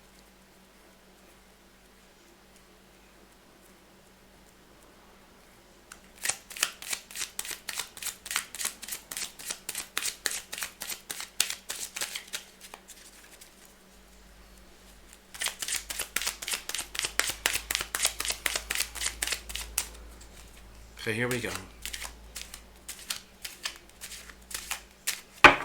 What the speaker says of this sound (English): I'm going to shuffle it again and cut it again